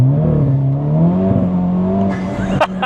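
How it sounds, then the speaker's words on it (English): A Honda Civic Type R FL5 with HKS, Cusco, PRL and GruppeM upgrades accelerating hard in second gear, the engine note climbing loud and close before traction control cuts in with a brief stutter and tire chirps. "That's the traction control kicking in. The second gear just wants to go."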